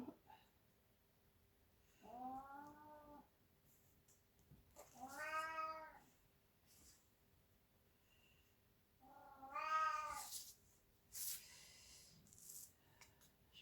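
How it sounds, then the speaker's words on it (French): A domestic cat meows several times, drawn-out cries separated by quiet pauses in an otherwise still room. "ce que vous entendez, c'est mon chat"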